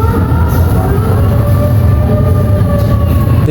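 An amusement park ghost train ride rumbles along loudly and continuously, a heavy steady rolling drone with faint whining tones, close and unbroken.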